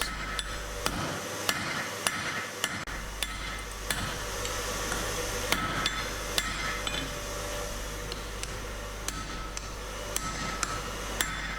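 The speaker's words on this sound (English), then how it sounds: "I'm widening the jaw by using half on half off blows." A blacksmith's hammer strikes hot steel while forging the jaws of U-box tongs with half-on, half-off blows: sharp ringing impacts land in a steady, repeated rhythm over a constant background hum, with no talk.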